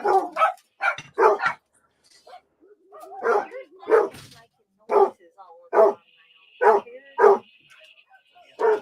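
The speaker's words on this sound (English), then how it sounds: "Dog fight." Several dogs bark in loud, sharp bursts at close range, a rough, scrappy exchange with yips and whimpers, repeated every half second or so across the stretch, with a steady faint whine running underneath.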